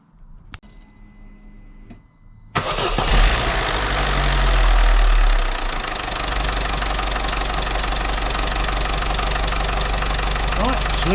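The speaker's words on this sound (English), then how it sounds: "it's just going to be a case of starting her up again, and I've just got to leave it idling for 20 minutes" A Vauxhall Corsa C engine starts after an oil change, catching with a loud surge before settling into a steady, slightly knocking idle close by, with faint talk before the start.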